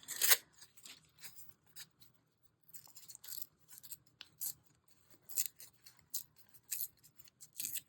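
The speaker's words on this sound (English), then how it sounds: "let's see if I can try to rip something that's more interesting besides straight" Paper is torn by hand for a junk journal at a beach gathering, short crisp ripping bursts coming in uneven clusters, close and fairly quiet, with brief pauses between tears.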